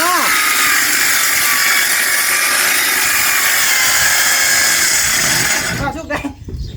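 A power saw cuts through a bathroom roof with a loud, continuous, grinding whine that runs steadily for several seconds, then winds down into scattered clatter and rustling.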